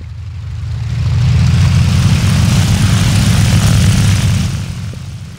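Propeller plane taking off from an aircraft carrier deck in War Thunder, a loud steady engine drone that swells and then eases over a few seconds with no voices.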